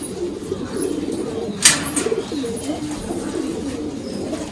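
Line-bred racing pigeons cooing inside a loft, low rolling calls repeating steadily nearby, with a sharp brief rustle or wing flick partway through.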